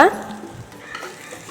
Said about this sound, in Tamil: அந்த வாழைக்காய் ஆட் பண்ணி நல்லா மிக்ஸ் பண்ணி விட்டுக்கோங்க